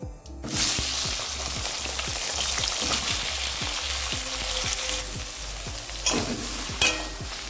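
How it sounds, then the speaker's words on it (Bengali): Eggplant pieces dropped into hot oil left over from frying potatoes, crackling and sizzling loudly and steadily throughout, with a regular thudding rhythm of stirring and a few sharper clatters near the end. "এবার ওই তেলেই এবার বেগুনগুলোকে ছেড়ে দিচ্ছি।"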